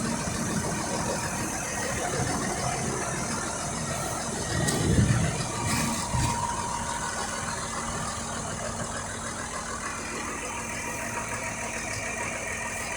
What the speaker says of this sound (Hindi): बहुत बड़ा ट्रैक्टर है ये।